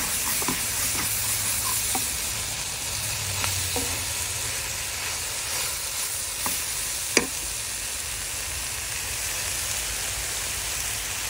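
Steady sizzling hiss of water hitting a hot pan of vegetables with potatoes, raw tomatoes and onions, with a few brief clinks of stirring over the continuous frying noise; no voices.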